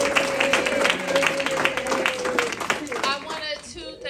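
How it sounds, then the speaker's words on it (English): A community meeting audience gives a round of applause, a loud burst of clapping under a voice talking over it, thinning out toward the end. "Give them a big round of applause."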